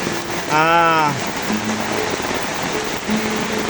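Heavy rain pours during a flood in Kampung Pancasila, a steady loud hiss throughout, briefly overlaid by a wavering voice-like tone and a couple of faint short hums.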